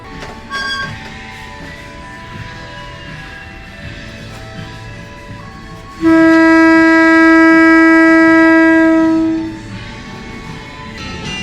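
A train hauled by a rare BB 303 locomotive departs Lubuk Alung station, its horn sounding one long, loud, steady blast over a low rumbling background, preceded by a short toot.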